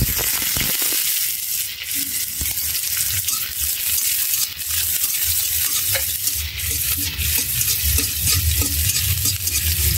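Panch phoron spices sizzle loudly in hot oil for a vegetable tempering, a dense steady hiss with occasional sharp pops and stirring scrapes throughout.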